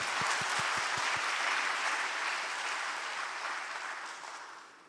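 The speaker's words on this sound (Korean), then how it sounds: "여러분 박수 한번 주실래요? 우리 청소년들" A church congregation applauds at an evening service, a broad wash of many hands clapping that holds steady for several seconds and then fades gradually toward the end.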